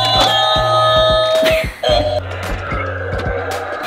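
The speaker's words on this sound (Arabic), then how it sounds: "أول شيء لازم تسوي إنك تضغط الجرس هذا." A doorbell is pressed, sounding a bright electronic tone that rings out, stops, and then rings again with a different chime pattern, loud and close, with brief clicks and rattles between the tones.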